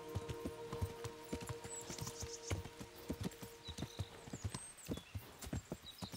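A horse gallops at full speed through rough terrain in the medieval role-playing game Kingdom Come: Deliverance, with quick, rhythmic hoof clip-clops up close and a brief whinny mixed in.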